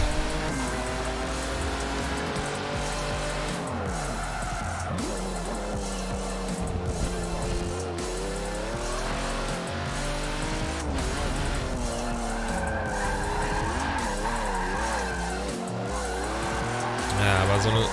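A supercar in Forza Motorsport 7 skids with long, wavering tire squeals over a steady roaring engine, loud and close throughout, while someone talks over it.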